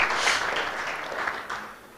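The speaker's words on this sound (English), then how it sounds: "give a round of applause to him as we welcome the next speaker" Conference attendees at a medical scientific meeting give a speaker a round of applause, a thick, even patter of clapping that gradually thins and softens toward the end.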